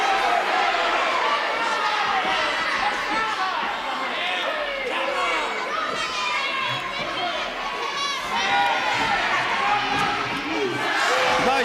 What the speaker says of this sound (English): The crowd not very happy.